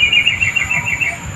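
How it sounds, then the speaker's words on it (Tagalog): Repeated high chirping calls of birds outdoors, a steady run of short bright notes with faint low rumble beneath, fairly close and moderately loud. "Yan ang pakinggan nyo mabuti yung huni ng mga ibon mga kaibigan."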